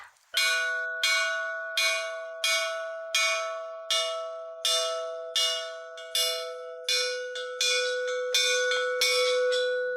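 A school bell struck about a dozen times at a steady pace, each loud metallic clang ringing and decaying before the next, alone with no talk.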